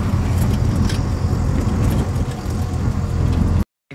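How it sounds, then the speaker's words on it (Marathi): An auto-rickshaw engine drones steadily and loudly from inside the cabin during an early-morning ride, with dense low rumble and road noise throughout before a sudden cutoff near the end. "मी फायनली रिक्षात बसला"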